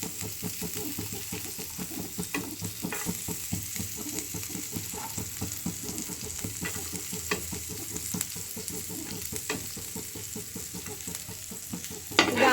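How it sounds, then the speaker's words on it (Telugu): Garlic roasts in melted butter in a pan for white sauce mushroom pasta, a steady, close, fairly loud sizzle with faint stirring scrapes throughout and a sharper knock at the very end. "గార్లిక్ మంచిగా బ్రౌన్ వచ్చేలాగా రోస్ట్ చేసుకోవాలి"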